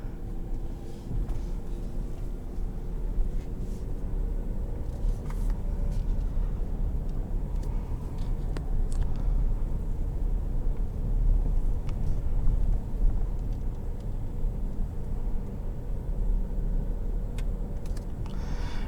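A 2021 Ford F-150 XLT PowerBoost hybrid pickup drives slowly around a lot in hybrid eco mode, giving a continuous low road and drivetrain rumble from inside the cab with a mild whine.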